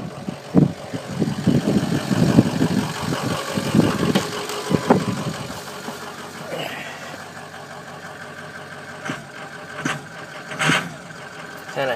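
A 2004 Ford 6.0 Powerstroke diesel truck engine with bad injectors idles steadily close by, a continuous low rumble with a few louder knocks early on. Scattered voices and clatter overlap it during the first seconds.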